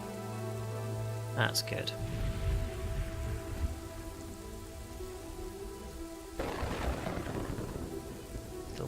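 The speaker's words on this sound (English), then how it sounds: "Still pouring down with rain." Steady rain pouring in the village-building game Kingdoms and Castles, a constant hiss under game music and a man's brief remark, with a thunder-like rumble in the middle.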